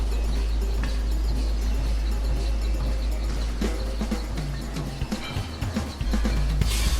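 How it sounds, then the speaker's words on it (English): A shoulder press machine in a gym, its weight stack and mechanism clunking and rattling as it moves up and down, steady mechanical noise over a low hum with scattered knocks, fairly close. "As you push up, exhale, and as the weight comes down, inhale."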